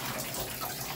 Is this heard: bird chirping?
no